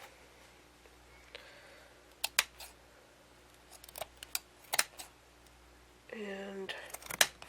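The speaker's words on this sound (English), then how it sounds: "If I can get my scissors to not go through the holes of the lace." Scissors snip through lace fabric in a few sharp, close cuts scattered between quiet pauses, then a brief voice and a rustle near the end.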